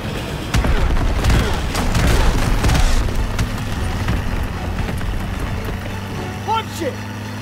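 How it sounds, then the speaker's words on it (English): Armored train in Call of Duty WW2 opening fire on players during a chase: heavy booming bursts and rumbling engine noise, loud and close, with shouted voices over the din. "It's firing at us!"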